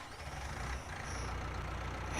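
A small tractor engine in Farming Simulator 19 runs with a low, steady idling rumble, moderately quiet and continuous with no voices.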